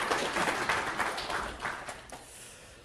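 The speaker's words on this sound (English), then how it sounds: "Give him a nice round of applause" An audience claps for a volunteer during a hypnosis training session. The applause is moderate and roomy, strongest at first and then thinning out into a few scattered claps.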